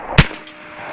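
An air-powered 12 gauge shotgun fires a real buckshot shell in a single sharp, loud, close blast that cuts off fast, leaving faint background noise and no talk.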